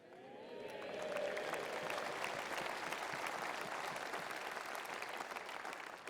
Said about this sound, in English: there's more cheering from my left than there is from the right